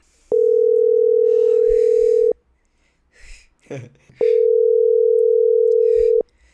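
A WhatsApp call rings out as two long, loud, steady tones, each about two seconds, with a gap of quiet and soft voices between them.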